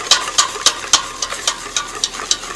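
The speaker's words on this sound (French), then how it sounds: "On mélange le sucre, on va bien blanchir." Egg yolks and sugar are whisked briskly in a bowl for a blueberry flan, a rapid run of crisp, rhythmic metallic swishes, close and loud, about four strokes per second.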